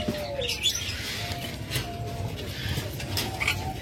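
Caged pet birds, including a crested pair, call at a bird sale with scattered chirps and soft cooing over a constant background hum, some calls near and some farther off, with no talking.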